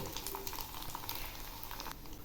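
Puffed rice snack pieces frying in hot oil while being stirred, a steady dense bubbling sizzle with faint scraping, close and continuous throughout.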